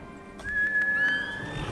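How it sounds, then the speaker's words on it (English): A horse neighs in the video game Ghost of Tsushima, one thin rising whinny ringing out clearly over quiet game ambience. "Horse!"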